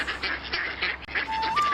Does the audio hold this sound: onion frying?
no